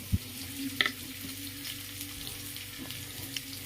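Sliced onion and carrot frying in a pan with garlic, a soft continuous sizzle with a couple of brief utensil clicks near the start, quiet and close, no voices.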